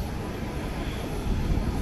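Broadband aircraft noise at Haneda Airport at night, a steady loud roar of a plane nearby with no talking over it.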